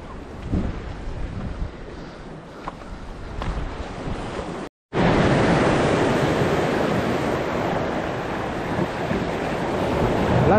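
Sea waves rolling in at a Kerala shore on a fisherman's outing, a continuous loud roaring wash of surf with wind buffeting the microphone, a brief dropout midway, no voices.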